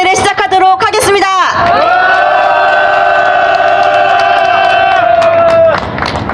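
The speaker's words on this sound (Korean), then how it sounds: "다시 한번 여러분의 크나큰 함성과 박수로 수요문화제를 시작하도록 하겠습니다" A crowd at an outdoor solidarity rally cheers loudly, and a long sustained shout rings out over the roar after a burst of excited voices.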